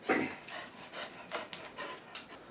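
A puppy dog pants nearby in quick, breathy puffs that continue through the moment, soft and close, with a few faint clicks and no talk.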